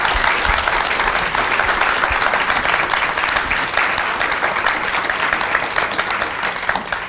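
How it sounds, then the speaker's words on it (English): Forum audience applauding the panelists at the close of a community needs discussion, a loud, full and sustained round of many hands clapping, even and unbroken from start to finish. "Please join me in giving them a round of applause."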